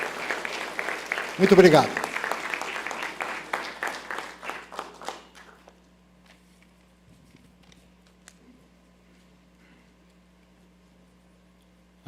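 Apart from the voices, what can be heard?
audience applause for an honoree at a ceremony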